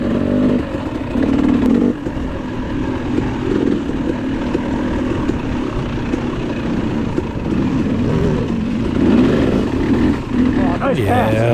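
KTM 300 two-stroke dirt bike racing through a hare scramble section, engine droning steadily and loud up close with revving surges as the rider clutches through rough terrain, continuous for the whole stretch.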